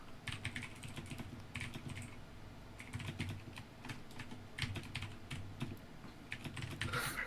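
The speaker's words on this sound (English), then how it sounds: "I got the new Razer Chroma something. Makes lots of noise" Rapid clacky typing on a Razer Chroma computer keyboard, close and continuous with short bursts and pauses, quiet overall with no talking.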